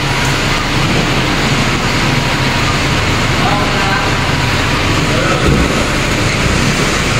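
A car driven up onto the ramp for a smog safety test at a vehicle inspection station, a steady close engine and rolling noise amid the broad hum of the workshop.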